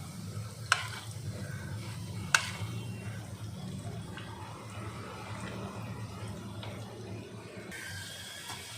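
Soft continuous sizzling of pakoda frying in oil, with a couple of sharp clinks from a utensil early on.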